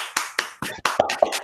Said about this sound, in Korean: 박수. 짝짝짝짝.